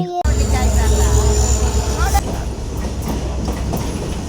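A train passes close by at a railway station, opening with a loud tonal squeal over a heavy rumble, then settling into a steady, rhythmic clatter of wheels.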